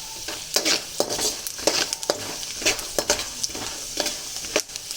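Peanuts frying in hot oil in a home kitchen, a steady crackling sizzle broken by repeated scraping strokes of a stirring utensil against the pan, close and fairly loud.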